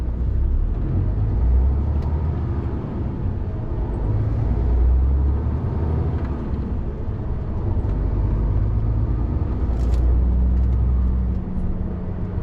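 MAN lorry hauling an empty trailer pulls away slowly, its diesel engine a low, steady droning rumble that swells and eases gently as it labours up to speed, with no voices.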